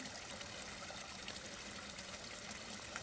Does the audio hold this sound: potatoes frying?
no